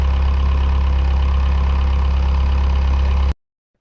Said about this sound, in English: that definitely sounds like a non-turbo diesel